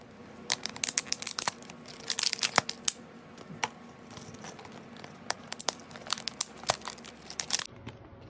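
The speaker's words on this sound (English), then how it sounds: "take a bottle, water bottle that's empty, and take off this sticker" A paper sticker is peeled off an empty plastic water bottle, producing close crinkling and tearing crackles in irregular bursts, with quieter pauses between pulls.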